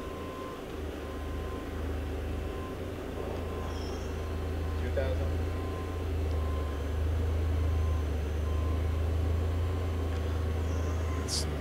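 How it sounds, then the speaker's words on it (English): A Hardinge Conquest T-42SP super-precision CNC turning center runs its main spindle with a steady low hum and whir that builds slightly over time, accompanied by faint shop noise and occasional talk. "Okay, run the spindle. Doing the main spindle now."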